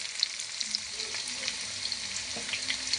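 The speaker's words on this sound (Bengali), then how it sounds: "এই যে তেল গরম হয়ে গেছে এখন তেলের উপরে পেঁয়াজগুলো দিয়ে দেব" Onions fry in hot oil for a potato and meat curry, making a continuous even sizzle up close with occasional soft crackles and no talking.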